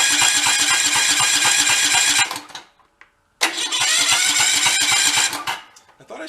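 Salvaged free lawn mower engine cranking, a loud rapid chugging burst that cuts out, falls briefly silent, then cranks again with the same rough rhythmic pulsing, close to the microphone.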